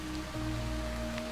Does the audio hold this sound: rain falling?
yes